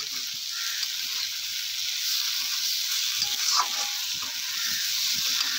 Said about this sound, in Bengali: এবার সোয়াবিনের সাথে সব কিছু ভালো করে আমি আবারও একটু এটা নাড়াচাড়া করে নিচ্ছি।